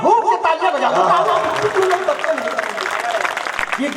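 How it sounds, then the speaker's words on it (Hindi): A crowd at a kavi sammelan poetry gathering, held for the birthday of former Madhya Pradesh chief minister Kamal Nath in Pandurna, claps and chatters while a voice keeps talking loudly on top of the applause. "गाड़ी वाले एक बार झूम के तालियां बजाओ।"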